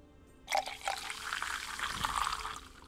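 A pint of beer pours from a tap in the tavern management game Tavern Manager Simulator, beginning with a sudden splashy gush and then running as a steady liquid stream for about two seconds before easing off.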